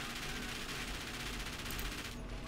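Rapid automatic gunfire in the video game GTA 5 with explosive rounds, a dense, loud, continuous burst of shots that cuts off abruptly near the end.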